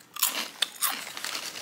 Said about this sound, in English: Super crunchy.